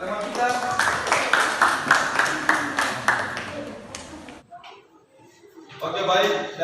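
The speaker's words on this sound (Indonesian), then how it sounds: "berikan tepuk tangan buat teman kita" Classroom applause from students for a classmate, a dense burst of clapping lasting several seconds, then a brief lull before a short renewed patter of claps, with light background voices.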